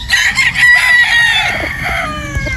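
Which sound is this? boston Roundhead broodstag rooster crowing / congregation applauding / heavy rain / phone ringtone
boston Roundhead broodstag rooster crowing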